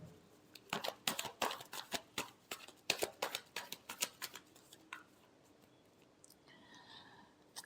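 Tarot cards are shuffled by hand in a quiet room, a quick series of crisp riffling flutters and soft slaps repeating for several seconds before trailing off into faint rustles.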